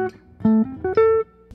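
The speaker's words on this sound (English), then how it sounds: "a lot of people usually play something along these lines." Short, simple jazz line over a diminished chord: a handful of clean, sustained single notes rising in steps, each held briefly, played alone and fairly loud.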